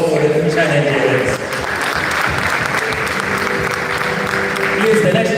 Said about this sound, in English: an appreciation and a round of applause for the future Nigerians